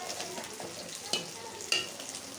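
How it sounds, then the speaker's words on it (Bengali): Cumin and chili powder sauté in a pan with garlic paste for a pabda fish curry, a quiet steady sizzle broken by two sharp stirring clinks. "মশলা কষানো হচ্ছে"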